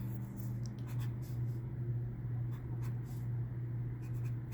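Pen or marker writing out a fraction subtraction problem, a steady soft scratching of strokes over a constant low electrical hum, no talking.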